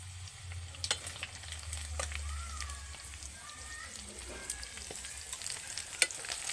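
Shrimp fry in oil with a busy crackle and scattered sharp pops, a low rumble underneath and faint whistling tones in the middle, moderately quiet.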